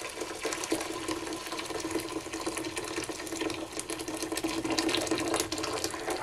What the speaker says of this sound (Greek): βάζουμε σε μια κατσαρόλα καυτό νερό